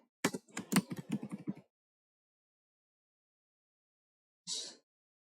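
Keystrokes on a computer keyboard while typing Java code, a quick burst of clicks for about a second and a half, then silence and one last short tap.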